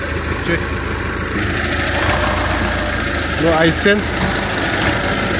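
A tractor engine idles steadily at close range through a rural Sakha village scene, a continuous low mechanical rumble running under brief conversation between people nearby.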